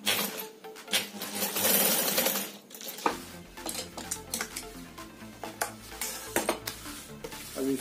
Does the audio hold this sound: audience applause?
no